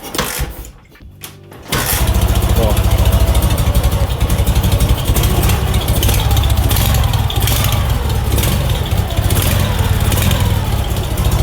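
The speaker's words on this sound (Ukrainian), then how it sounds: "Включаємо жигу на Іванку" A Zhiguli (Lada) car engine cranks briefly and catches, then settles into a loud, close, rough idle that runs steadily to the end of the clip, with no talk.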